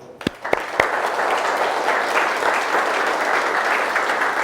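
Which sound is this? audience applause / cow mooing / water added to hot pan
audience applause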